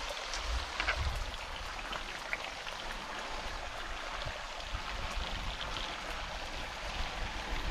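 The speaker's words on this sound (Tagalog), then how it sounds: "May tubig na dito." A mountain stream flows steadily, its water making a continuous close rushing and splashing wash with no break and no talk.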